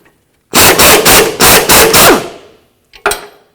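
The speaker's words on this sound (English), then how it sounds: "After that, we're going to remove the nut." A tool loosens the sway bar link nut on a 2007-2017 Ford Expedition while a 17mm wrench holds the stud. Five or six loud, rapid, close mechanical bursts come in a row, then one shorter burst after a brief pause.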